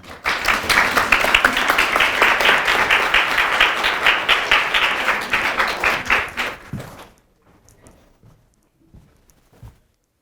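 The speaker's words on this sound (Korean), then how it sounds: "심의기 교수님을 큰 박수로 맞이해 주시기 바랍니다" An audience at a public lecture on modern criminal law history claps warmly to welcome a professor, a loud, dense burst that thins and fades out after about seven seconds, leaving near silence with a few small sounds.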